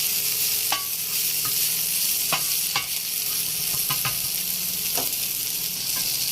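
Onions seasoned with black pepper fry in a pan, giving a continuous close sizzle broken by sharp scraping knocks from stirring.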